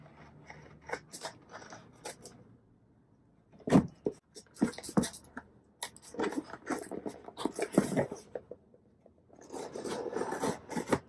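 Scissors cut open a Jeffree Star mystery box at close range, rasping snips coming in short bursts broken by brief pauses, with no talking.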